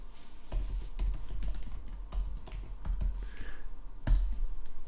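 Steady typing on a computer keyboard while a spreadsheet formula is entered, with close, busy key clicks in an uneven rhythm and a few sharper, heavier keystrokes.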